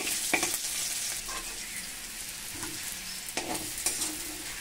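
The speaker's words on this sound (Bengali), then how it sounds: "সবকটা চিংড়ি আমার ভাজা হয়ে গেল।" Prawns frying in oil in a pan make a steady hiss, broken by a few soft scrapes and taps from a utensil, with no voices.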